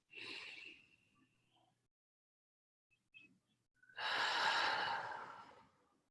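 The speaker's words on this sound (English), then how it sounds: "just take your deep breaths through your nose" A slow, deep breath drawn in through the nose, then after a pause a long, full exhale released through the mouth, close and quiet, during a guided meditation.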